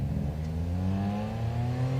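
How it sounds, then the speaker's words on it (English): A junior rally car engine revs steadily and loudly up close at the stage start line, a throaty drone with rising harmonics, no voices. "You can hear Mackenzie revving it"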